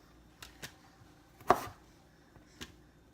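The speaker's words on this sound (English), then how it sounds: "For the smaller ones, a lot of times I just cut them in half." A knife halves small chicken pieces on a board for stewed curry chicken, giving a few isolated, close chopping knocks with one louder thud in the middle and quiet gaps between strikes.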